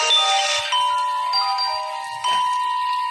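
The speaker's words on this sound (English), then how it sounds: "She needs to ring the melody on bells." Bright, sustained bell tones ring out one after another in a short melodic sequence, each note lingering and overlapping the next, clear and close.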